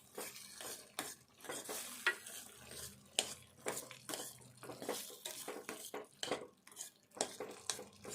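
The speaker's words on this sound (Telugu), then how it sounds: "వంకాయ ముక్కలు వేసుకుందాము." Brinjal pieces added to softened tomato and stirred in a pan, irregular spoon scrapes and clinks against metal over a quiet, low sizzle, close by.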